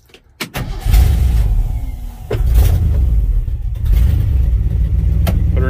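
A 1966 Ford F100 pickup's engine catches and runs loud and close, rumbling and revving as the truck pulls away, with brief clunks at the start.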